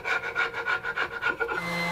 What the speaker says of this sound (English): a quick scrape with the scraper to remove the squeeze out